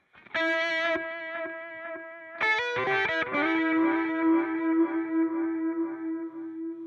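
Electric guitar through tape echo or vintage delay on a Spark 2 amp: a held note, then a quick flurry of notes whose repeats decay into a long sustained tone, close and clear with no talk.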